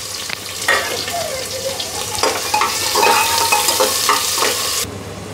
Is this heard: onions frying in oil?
yes